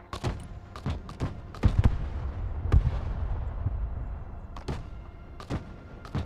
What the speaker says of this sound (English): Mortar ready to engage, sir.